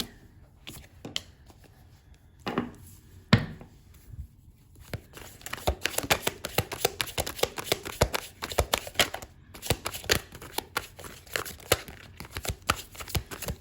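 Sticky tarot cards being shuffled, a brief rustle early on followed by a dense run of crisp, rapid card flicks and riffles, close and fairly quiet, with no talking.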